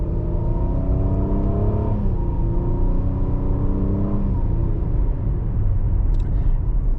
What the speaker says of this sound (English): you want to be able to accelerate from a stop position forward